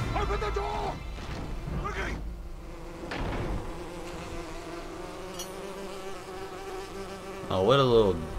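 A bee buzzes in the LEGO The Hobbit video game, running steadily through the clip under game sounds and voices, with a louder wavering burst near the end.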